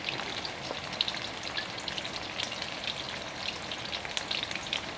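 Chicken pieces frying in hot oil for sesame chicken, a steady close crackling sizzle with faint pops, alone without voices.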